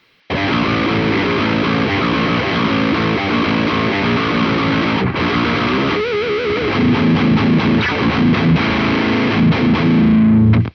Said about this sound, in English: get some really nice nasty tones out of that one. The Super Overdrive from Boss.